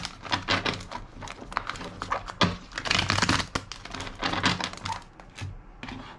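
Cards are shuffled by hand in a series of close riffling, flapping bursts with short gaps between them, and no talk over the sound.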